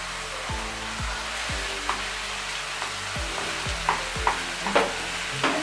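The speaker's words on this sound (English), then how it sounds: "Now this is cooked and I am adding the boiled noodles." Boiled noodles go into a sizzling pan and are stirred, a constant close frying hiss broken by repeated metallic scrapes and clinks of the spoon against the pan.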